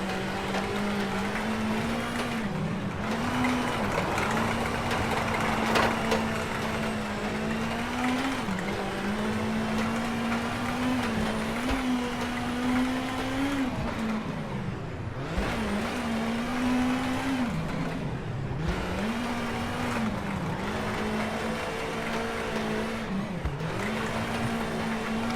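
A Ford Fiesta WRC rally car engine in the video game WRC 8 drones continuously at high revs, pitch dipping and rising with gear changes and lifts off throttle through fast rally stage sections, loud and steady with no talk.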